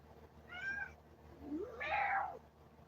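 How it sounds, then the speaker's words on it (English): A cat meows twice, a short mid-pitched call followed by a longer rising-then-falling meow, fairly close in a quiet indoor space. "He is a cat."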